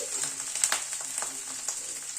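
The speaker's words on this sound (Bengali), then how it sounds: "আদা বাটাটা দিয়ে আবার একটু নাড়াচাড়া করে নিচ্ছি" Ginger paste sizzles in a hot pan while being stirred, with a steady high hiss of frying and a few soft spoon scrapes against the metal, close and moderately quiet.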